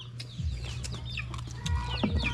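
A chicken clucks in short, scattered calls, fairly faint over a steady low background hum, with a few sharper notes near the end.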